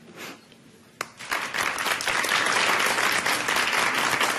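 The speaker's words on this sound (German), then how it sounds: "Sie dürfen richtig kräftig klatschen." Audience applause breaks out after a brief lull, rising at about one second into a loud, dense, steady clapping that carries on to the end with no voices over it.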